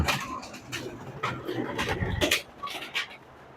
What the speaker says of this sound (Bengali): এখানে ঘুঘু দেখতে পাচ্ছেন ঘুঘু বাচ্চা দিয়েছে